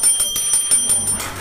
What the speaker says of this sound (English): I'm gonna sound the bell.